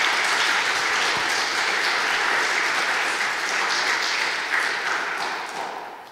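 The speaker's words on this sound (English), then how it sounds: "Big round of applause for all of the organizers." A crowd applauds steadily, dense clapping from many hands that holds strong and then begins to fade at the end.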